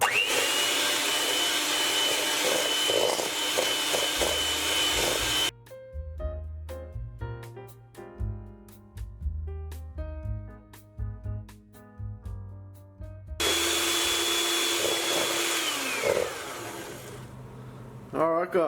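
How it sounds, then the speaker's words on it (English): A hand mixer beats sugar and vanilla batter for French madeleines, giving a loud, steady motor whine. It runs for the first few seconds, drops out while music plays, then returns near the end. "So just using a hand mixer, we just want to mix this and we want to beat this for about 5 to 6 minutes."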